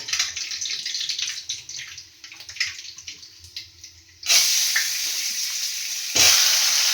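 Marinated chicken is sautéed in a pan over whole spices such as cinnamon and clove. Stirring and scraping come first, then the sizzle jumps to a loud, steady hiss partway through, with another surge near the end.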